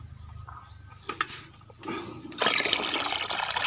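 Water poured into a bucket that feeds a mini submersible pump, starting as faint trickles and splashes, then swelling into a loud, steady rushing pour for the last second or so, close by with no voices.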